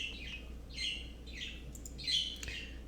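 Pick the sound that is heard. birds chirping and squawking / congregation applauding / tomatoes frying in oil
birds chirping and squawking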